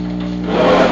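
A drywall sanding sponge scrubs across filler on a small model lighthouse build, a close, steady rasping rub that grows louder and coarser partway through.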